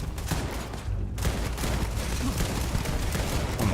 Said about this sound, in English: Just shoot my way off.